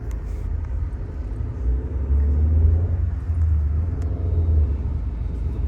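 A car on a mountain road in Uttarakhand, near the Bhimtal and Mukteshwar routes, gives a steady low engine and tyre rumble that swells slightly midway and stays close and continuous, with no talking.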